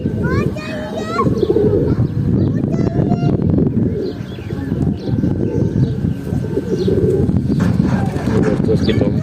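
Pigeons coo in soft, repeated throaty calls close by, with chirps and other bird sounds mixed in during hot summer weather.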